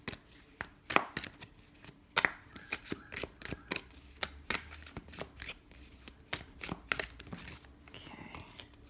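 Tarot cards being shuffled and pulled by hand, giving a string of quick, close, crisp riffles and flicks with short pauses between them, alone without talk.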